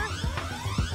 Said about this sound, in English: Yep, I'm gonna set off the alarm.